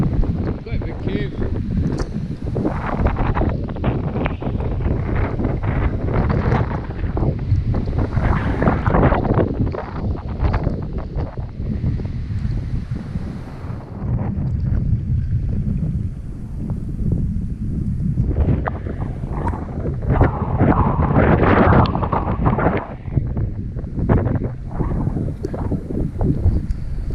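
A strong offshore wind coming off the hill buffets the open air at a large sea cave entrance, roaring and gusting loudly and continuously as it batters the microphone.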